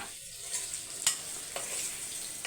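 Food roasting in hot oil in a pan, a steady soft sizzle with a few brief crackles and stirs, close and alone with no talk.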